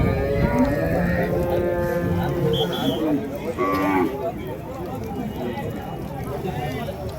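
Cart bullocks at the Kundarapalli cattle market, with lowing cattle mixed into a steady din of crowd noise and nearby voices talking throughout.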